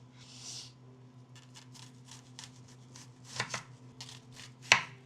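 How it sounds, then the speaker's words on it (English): Knife slicing through red onions for a bowl with olive oil and light seasoning: a run of soft, quick cuts against a board, then a few sharper, louder knocks near the end, over a steady low hum. "About to just slice them up"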